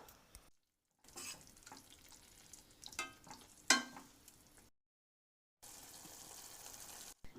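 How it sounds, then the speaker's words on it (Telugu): A spoon gently stirs amaranth leaf and gram flour gatti curry in a pan, soft scraping and light sizzling in short bursts broken by brief silences, close and quiet. "దీని ఇప్పుడు చాలా జాగ్రత్తగా కలుపుకోవాలని ఎందుకంటే ఆ పీసెస్ స్ట్రక్చర్ మిస్ అవ్వకూడదు కదా"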